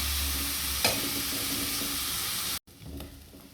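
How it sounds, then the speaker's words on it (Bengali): Vegetables fry with soy sauce for a Chinese-style vegetable dish, with a loud, dense hiss of sizzling and a single spatula knock, then a brief cut before the sizzle returns. "দেবো একটু সয়া সস, ভালো করে এটাকে ভাজবো"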